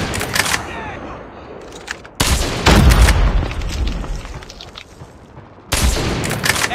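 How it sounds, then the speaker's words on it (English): A grenade blast and gunfire in a Call of Duty video game: sharp loud bursts and booming impacts separated by quieter stretches of rumbling battle noise, close and harsh, with brief voices in the mix. "Grenade out."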